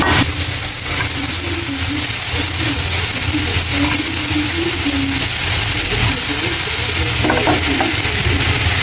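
Curry with turmeric, chili powder and salt fries loudly in a pan, a dense continuous sizzle with stirring underneath and a low hum throughout, close by with no speech.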